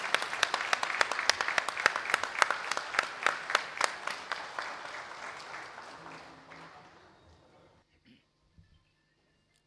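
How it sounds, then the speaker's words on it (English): An audience at a corporate summit applauds an esteemed customer, with loud, dense clapping and scattered sharp claps that fade out over several seconds into near silence. "So can we just stand up and give a big cheer up for our esteemed customer"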